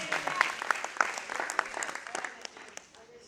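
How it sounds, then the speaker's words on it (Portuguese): A church congregation breaks into applause, a dense burst of clapping that peaks early and then gradually fades, with voices mixed in. "E pode aplaudir ao nome do Senhor"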